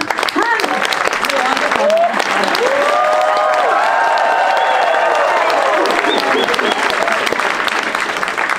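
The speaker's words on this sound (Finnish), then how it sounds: "Ja nyt ensin haluaisin antaa ensimmäiset aplodit nyt tässä kohtaa." A choir audience claps for the choir's organizer, dense hearty applause from a crowd filling the room, with voices talking and calling out over the clapping throughout.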